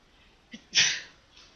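A single quick sneeze with a short intake of breath just before it, close and fairly sharp, in otherwise quiet surroundings.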